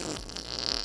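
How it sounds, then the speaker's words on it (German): In a comic hospital scene with Playmobil figures, a short, low fart sounds close and fairly quiet, a brief rasp with no speech over it. "hast du etwa gerade gepupst?"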